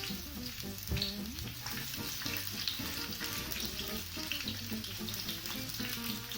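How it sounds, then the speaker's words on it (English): Peppers fry in a sauteing pan with a steady, fairly quiet sizzle and crackle that continues evenly, with a faint watery hiss beneath it and no voices. "You'll want to fry those off to get them nice and soft."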